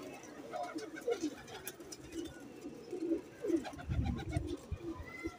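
Pigeons of collected fancy breeds, including blue and diamond-eyed birds, coo softly and repeatedly nearby while someone talks over them.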